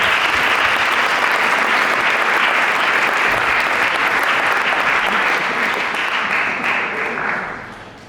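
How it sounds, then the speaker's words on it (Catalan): Sustained applause from an audience gathered in a town's former convent for a film screening, dense clapping filling the room steadily before tapering off at the end. "Un aplaudiment, sisplau."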